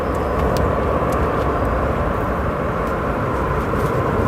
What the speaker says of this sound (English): Not a bad arrival there for American Airlines.